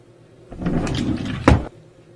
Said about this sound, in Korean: 어김없이 서랍이 열리고 닫히는 소리가 들려왔다